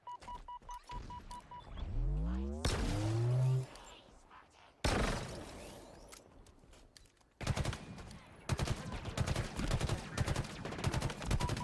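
Video game gunfire in loud rapid bursts and rattling automatic fire, mixed with whooshing effects and game sounds, near and continuous, with no talk.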